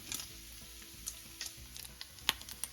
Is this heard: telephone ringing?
no